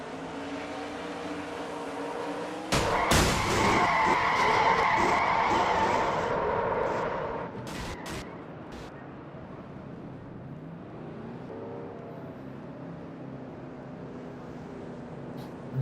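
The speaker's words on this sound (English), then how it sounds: "Jess gets her car back going again" A NASCAR-style race car in a racing video game skids with a loud tire screech for several seconds, then its engine drones back up to speed, with faint commentary underneath.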